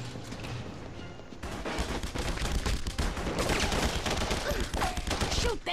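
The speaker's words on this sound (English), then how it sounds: "Watch where you're firing, Castle!" Gunfire in The Punisher (2004) video game: a dense, continuous fusillade of rapid shots and bursts, loud and close, intensifying after the first second and running throughout.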